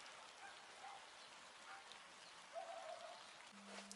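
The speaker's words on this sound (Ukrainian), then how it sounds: "Вийшов на двір, подивився, що йде дощ." Steady rain falls outdoors in a yard on a darkening day, a soft continuous patter that holds at a fairly faint level throughout, with a few slightly louder drops and a low hum near the end.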